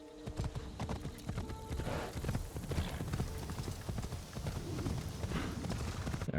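Horse hooves clip-clopping in the video game Assassin's Creed Shadows, a steady rhythmic trot of close hoof strikes with a brief whinny and some game ambience, running throughout without talk.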